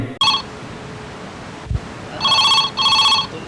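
Telephone ringing in a comedy drama scene, with a short opening burst followed by two longer electronic trill bursts near the end, moderately loud with no speech.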